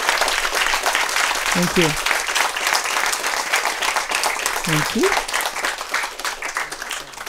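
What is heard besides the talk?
audience applause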